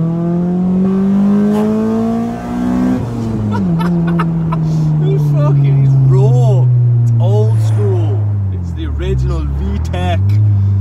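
A Honda B16A engine in an EJ9 Civic revs hard, its tone climbing and shifting sharply at the VTEC crossover before dropping and surging again, loud and close, with voices partly over it.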